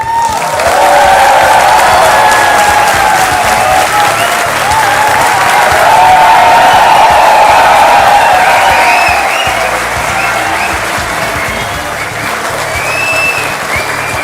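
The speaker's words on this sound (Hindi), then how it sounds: "और ये तालियां इसी तरह बजती रहें" A studio audience applauds and cheers loudly and steadily for Punjab Chief Minister Bhagwant Mann, arriving as a guest on a televised courtroom-style talk show. The dense ovation holds throughout with a faint crowd murmur.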